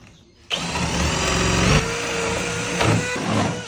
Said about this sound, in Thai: หลังจากทิมเมอร์แล้วก็ใช้สว่านนะครับในการเจาะรูลึก